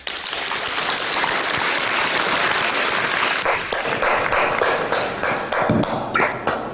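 Sustained applause from a crowd honoring Niger's president, a dense, steady wash of clapping that thins into scattered claps toward the end.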